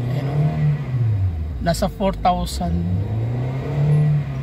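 Toyota Avanza engine with a throttle delay and low power, revved to 4,000 RPM: a loud, steady hum that swells near the end, with a person speaking briefly over it.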